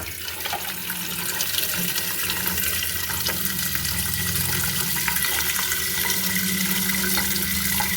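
Water runs out steadily in a kitchen, a continuous close splashing gush with even loudness throughout, no talk.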